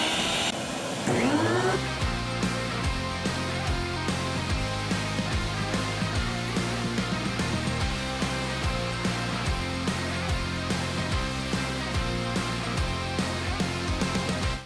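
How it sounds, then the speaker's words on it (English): A vacuum cleaner plugged in outdoors runs continuously with a steady droning whine after a brief start-up, fairly quiet and even for the whole stretch, no voices. "so had to plug in the vacuum outside"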